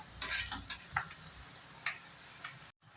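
A small batch of French fries frying in hot oil gives a quiet sizzle, broken by a few sharp clicks and taps from a utensil, before the sound briefly cuts out near the end.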